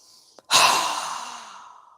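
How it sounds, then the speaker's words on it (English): A strong, breathy exhale pushed out through a wide-open mouth during yoga breathing practice, one long loud rush that fades over about a second and a half, preceded by a faint short inhale. "exhaling with a strong breath with our mouth open wide"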